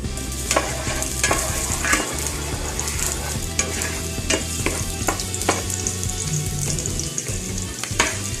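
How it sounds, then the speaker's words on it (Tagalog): Garlic sautés in a pan while it is stirred, a continuous close sizzle broken by frequent scraping and clinking strokes of the utensil. "Gigisa natin siya hanggang maging brown."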